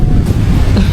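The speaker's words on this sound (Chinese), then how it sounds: "海面的这个风景上和海浪的这个声音上" Sea waves wash ashore on a Hainan beach while strong sea wind buffets the microphone, forming a loud, rushing roar.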